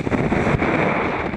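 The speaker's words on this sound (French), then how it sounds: "On a 28 nœuds de vent là." Strong 28-knot wind buffets a racing sailboat at sea, a loud continuous roar of wind against the microphone mixed with rushing water, no voices.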